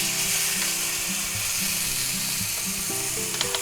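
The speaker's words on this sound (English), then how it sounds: "Okay, we got a good sear on there." Sirloin steak searing in a hot pan gives a steady, loud, close sizzle with a faint crackle running through it and a few sharper pops near the end. No voices are heard.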